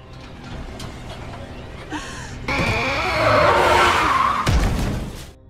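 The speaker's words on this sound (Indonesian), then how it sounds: "rekan timnya Detektif Su datang membawa mobil, lalu menabrak mobil yang di dalamnya ada Thuy" In a film chase, car tires screech and skid loudly, then a heavy crash follows as one car rams into another, with a drawn-out squeal before the impact and the noise fading afterward.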